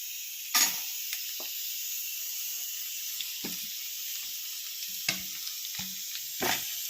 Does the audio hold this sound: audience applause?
no